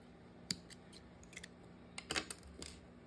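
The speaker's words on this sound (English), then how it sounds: "And cut your yarn." Scissors snip through wool yarn while finishing a flower-centre embroidery stitch, a few quiet separate clicks with one crisper double snip near the end, close and faint, with no talking.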